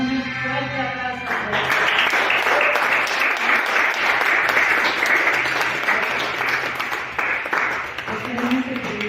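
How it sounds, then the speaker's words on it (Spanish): A church congregation breaks into loud, sustained applause after a hymn, many hands clapping densely for several seconds, with a voice heard at the start and again as the clapping fades. "Demos un fuerte aplauso"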